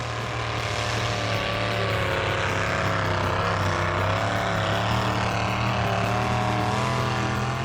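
A Chevy Blazer mega truck engine running rough with cylinder 4 not firing, a loud continuous droning rumble with a wavering, uneven tone throughout.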